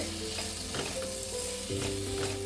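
Soybean curry sizzling steadily in a pan, with a spoon scraping and stirring through it in a few soft strokes, close and alone.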